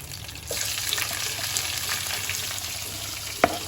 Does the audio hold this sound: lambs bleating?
no